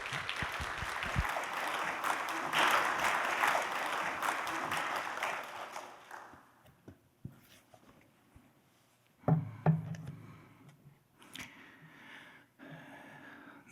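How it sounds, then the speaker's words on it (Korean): A church congregation claps steadily for several seconds, welcoming a pastor, then the applause fades out, leaving scattered thumps and faint murmurs. "우리 박수로 한번 환영하고 축복하며 모셨으면 합니다"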